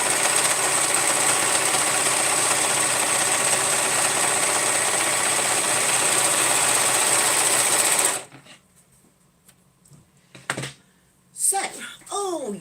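A sewing machine runs in one steady, loud, continuous stitching burst through fabric for about eight seconds, then stops abruptly, leaving near silence broken by brief handling clicks.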